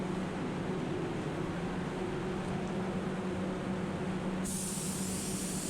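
A spray gun hisses in a continuous broadband stream as it lays a coat of paint on a new car wing, holding steady, then shifting tone near the end as the pass finishes.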